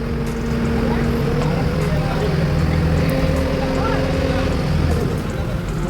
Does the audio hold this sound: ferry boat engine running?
yes